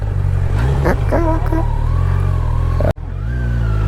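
Kawasaki Z900 motorcycle engine turning around on a hill road, a loud steady throbbing idle with low harmonic rumble, a brief rev and sharp cut near the end before the engine settles again; a voice talks briefly over it.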